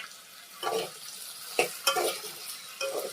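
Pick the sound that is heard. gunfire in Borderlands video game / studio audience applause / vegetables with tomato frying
vegetables with tomato frying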